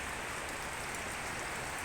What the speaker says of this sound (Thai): ฝนตกลงมานะ ผมนึกว่าจะหมด ฝนเรายังไม่หมดนะ